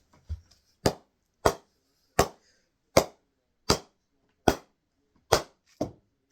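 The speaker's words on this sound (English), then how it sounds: "Bouncing the ball on it." Seven sharp wooden knocks at a steady pace, a ball bouncing on a cricket bat, each a crisp close tock with a short ring.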